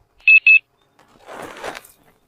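A phone gives two short, sharp dialing beeps in quick succession, followed by a moment of quiet and then a soft, brief rustle of indistinct noise.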